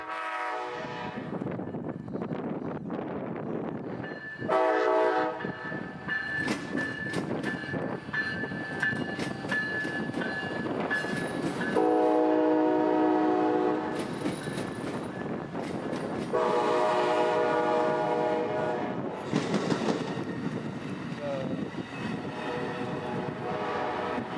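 Amtrak train 92 pulls out northbound toward Jacksonville near Tampa, its horn sounding in several loud, sustained blasts over the steady rumble and clatter of the passing rail cars.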